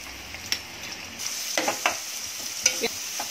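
Chopped onion frying in a cooking pot, a soft steady sizzle with light scraping and tapping as it is stirred, quiet and close.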